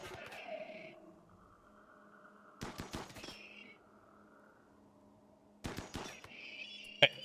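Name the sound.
gunfire in a video game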